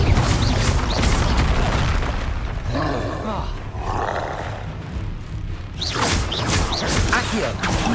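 A Confringo fire blast spell bursts in Hogwarts Legacy, a dense, roaring boom amid continuous loud combat noise with rumbling low-end blasts spread across the whole stretch.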